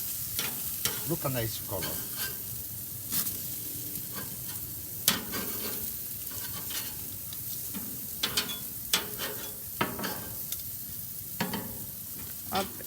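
Potato pieces frying in a pan, a continuous sizzle broken by frequent scraping and clattering of a stirring spoon, with a brief quiet remark from a man.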